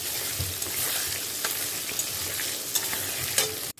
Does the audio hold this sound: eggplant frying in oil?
yes